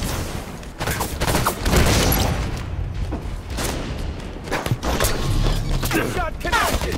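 Hostile gunfire in the Halo 5 Warzone video game against Promethean enemies, a dense run of overlapping shots and mechanical clatter lasting throughout, loud and busy with steady battle noise between bursts.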